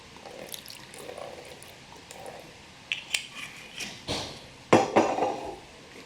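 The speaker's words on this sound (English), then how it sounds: "let's put all these spices into this bowl" Spices, soy sauce and balsamic vinegar go into a bowl during stir-fry prep, heard as soft pouring, light clinks and taps against the bowl, growing louder and more splashy toward the end.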